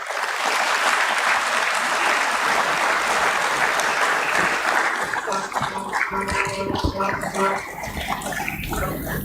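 An audience applauds at a stock exchange listing ceremony for a car dealership company, with loud, dense clapping that thins into scattered claps toward the end.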